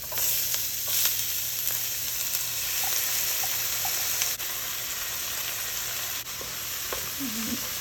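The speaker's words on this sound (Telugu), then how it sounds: "ఇవి కొంచెం ఫ్రై అయ్యాక చాప్డ్ ఆనియన్స్ అండ్ చిల్లీస్ వేసుకోవాలి." Chopped onions and chillies frying in a pan with star flower and marathi mogga spices for palak paneer, giving a steady, close sizzle that runs throughout with faint stirring scrapes and no talk.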